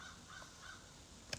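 A crow gives a short, sharp caw near the end of a quiet outdoor stretch, a single distinct call standing out from faint background hiss.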